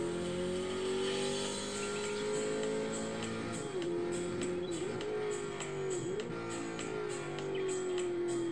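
A rare 1963 Corvette Grand Sport runs on a racetrack, its engine holding a steady loud drone with brief dips and rises in pitch as it shifts and works through corners, with no talking over it.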